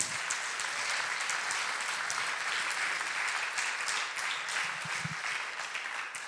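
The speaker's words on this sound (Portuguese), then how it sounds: "Você pode aplaudir a Jesus por estes 2 milagres?" A congregation in church applauds after a sermon reading, a sustained, even roar of many people clapping at a steady level from start to finish.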